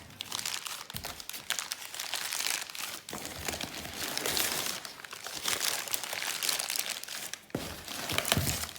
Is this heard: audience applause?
no